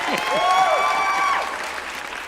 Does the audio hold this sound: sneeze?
no